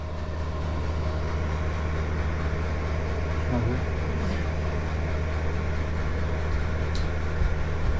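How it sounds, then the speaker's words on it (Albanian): A portable air conditioner, bought without installation, runs at 22 degrees and blows cold air, a steady, even hum and airflow drone with no breaks. "klima e lshume, qysh e lam me 22 gradë, po fryn"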